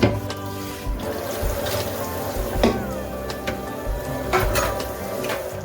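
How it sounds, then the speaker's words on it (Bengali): Pots, pans and utensils washed one at a time at a kitchen sink after cooking chicken, with running tap water and repeated clanks and scrapes of metal dishes, close up and steady. "এক একটা করে সব বাসন তাইলে ধুয়েই নিলাম"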